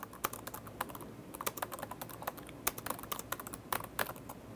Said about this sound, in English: Now I can type in any message